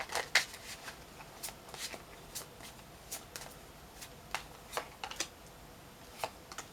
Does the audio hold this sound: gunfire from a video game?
no